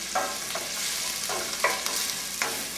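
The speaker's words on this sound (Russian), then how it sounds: "овощи немножко, то, что называется, потеют" Vegetables sweat and fry in a pan for pea soup puree, a soft steady sizzle broken by several short stirring scrapes at intervals.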